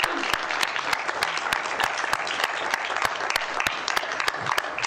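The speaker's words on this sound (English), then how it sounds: "Let's give Cal a big round of applause." Steady audience applause after a talk at a book event, dense and continuous clapping from a seated crowd that sounds moderately close, with no talking over it.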